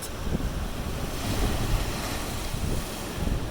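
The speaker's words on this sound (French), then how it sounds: "c'est les séries des vagues, regardez ça, là ça se retire et ça monte" Ocean waves surging in and drawing back at a rocky island blowhole, a steady loud wash of surf with wind buffeting the microphone throughout.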